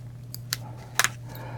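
Small sharp embroidery scissor snips cutting stitches close up, a few quiet isolated clicks, with a quick double snip near the middle over a low hum.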